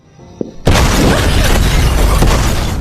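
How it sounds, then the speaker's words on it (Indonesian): A sudden, loud, full-band explosion in a Hong Kong gangster film follows a quiet moment and a short click, then roars and rumbles steadily for about two seconds with crackling debris bursts. "Dan gara-gara ledakan itu, Bai Zeni pun tewas dengan sangat mengenaska"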